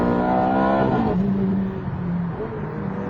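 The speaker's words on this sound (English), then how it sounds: "The best bit about this new 430 is the engine." A Ferrari F430's engine revs high while driving, a loud sustained tone that drops in pitch as the revs fall, then settles to a lower drone over steady road noise.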